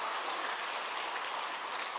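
A church congregation applauds together, a steady, dense patter of clapping that stays even and fairly loud throughout.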